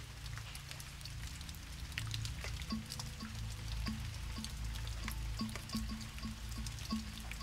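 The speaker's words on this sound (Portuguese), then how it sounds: "Cai um pé d'água sem mais sem menos no quintal de casa." A sudden rain shower falls on a house backyard on a hot afternoon, a steady soft patter with regular dripping ticks growing more frequent toward the end.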